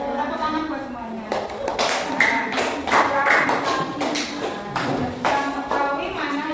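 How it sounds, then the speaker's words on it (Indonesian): Scattered clapping from a class group rises under ongoing talk and continues in uneven bursts throughout. "Tepuk tangan buat semuanya"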